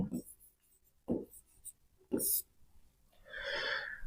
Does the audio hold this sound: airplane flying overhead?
no